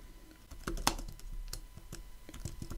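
Keystrokes on a computer keyboard as a caption is typed into a Word text box. Quiet, close clicks come in an uneven run, with one louder tap standing out.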